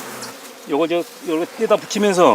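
Honeybees buzz at a hive inside a hollow, diseased tree in the Jirisan forest, the steady drone mostly buried beneath close, loud talking that runs through most of the moment.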